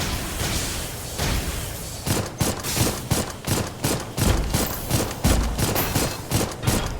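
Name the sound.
torpedoes firing in the video game Dolls Nest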